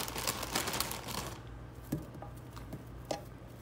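Broccoli goes into a hot skillet already holding salmon: a dense crackling sizzle with light tapping and scattered clicks, loudest for the first second and a half before settling into a softer, steady fry with a few sharp taps.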